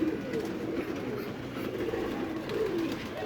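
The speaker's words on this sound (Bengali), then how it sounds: "মানে এগুলো আমার পাল্লার কবুতর" Domestic loft pigeons coo in a steady, overlapping murmur of low throaty calls, close by and continuous throughout with no talking.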